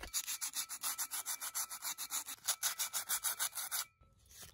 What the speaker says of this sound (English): I clean out the inside and just go around it with some sandpaper to roughen the edges up